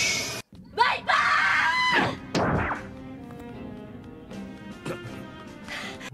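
A woman screams in an anime episode, a high, strained cry cut into by sharp thwacking impacts and crashes, with other voices talking in between.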